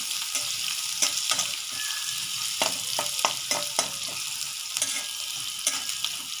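Chopped onion sautés in a hot pan for a crumbled leftover-chapati dish, a steady close sizzle broken by irregular sharp clicks of a spatula stirring against the pan, with no talking.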